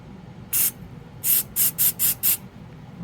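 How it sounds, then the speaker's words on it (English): Hairspray hisses out in six short sprays, one alone and then five in a quick even rhythm, close by over a quiet background. "I sprayed hairspray on there"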